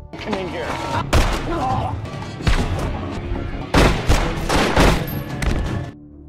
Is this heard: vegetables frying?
no